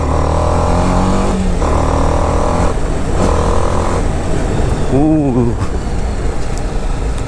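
A BMW G310RR motorcycle rides at speed, its engine a loud, steady drone with a brief rising and falling pitch sweep from acceleration, heavy wind rumble around it, and someone talking over the engine.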